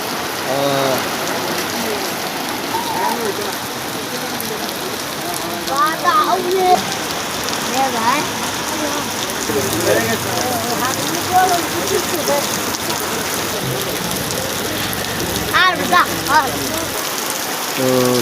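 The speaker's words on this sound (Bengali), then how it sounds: "চাঁদপুর জেলাতে সরাসরি বৃষ্টি হচ্ছে" Steady rain falls onto surfaces in Chandpur during a storm, a constant hiss with scattered drips and occasional faint voices or chirps in the background.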